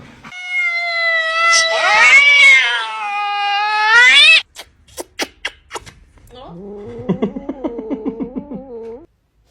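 A kitten meows in long, loud, drawn-out wails close to the microphone, followed by a run of sharp clicks and then a softer, wavering series of meows before falling silent.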